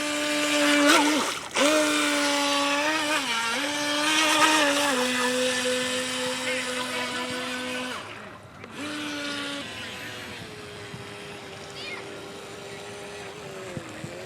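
An RC speed boat makes a full-speed pass, its small motor letting out a loud high whine that holds steady, dips briefly, cuts out for a moment, then returns and fades as the boat heads back.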